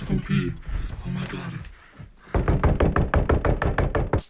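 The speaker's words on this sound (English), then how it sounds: "Stop knocking. I'm using the bathroom." Rapid, loud knocking on a bathroom door, a dense run of sharp raps after a stretch of talking and quieter mechanical sounds, close to the microphone.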